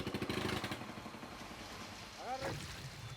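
An illegal gold-mining dredge engine idles on a river, a steady low throbbing chug at moderate distance, with a voice breaking in briefly near the end.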